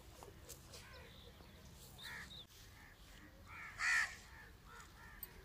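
Crows caw outdoors, faint and distant, in a few short calls with one clearer, louder caw near the middle over a quiet background hiss.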